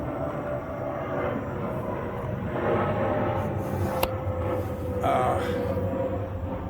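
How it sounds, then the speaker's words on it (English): An airplane passes overhead as a steady, distant low rumble that swells slightly and holds throughout, with no voices. "Got an airplane going over."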